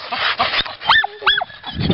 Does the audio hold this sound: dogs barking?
yes